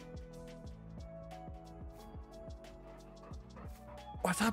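A dog in a farming simulator game gives a series of soft, quick, evenly spaced yips and barks over a steady background hum, ending in a brief louder burst.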